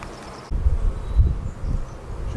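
A honey bee swarm buzzes close by during a hive capture, a dense low hum with a couple of soft thumps and rustles.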